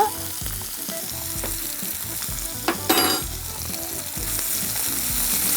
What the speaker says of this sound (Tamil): இது வந்து நல்லா வதங்கிருச்சு